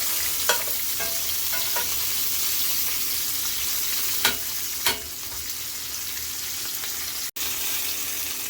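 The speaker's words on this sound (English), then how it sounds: "we're going to roast this a little bit in the grease too" A quartered large sweet onion roasts in hot grease in a pan while pozole rojo is prepared, giving a steady close sizzle and crackle throughout, with a few sharp clicks and scrapes on top and no talking.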